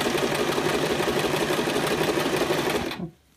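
A sewing machine stitches cording into fabric piping, running in a steady, fast mechanical rhythm close to the microphone for about three seconds before stopping abruptly.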